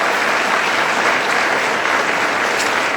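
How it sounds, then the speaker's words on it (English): Steady, dense applause from a luncheon audience, even and sustained from start to finish with no voices breaking through. "How about a round of applause to the leadership of UW?"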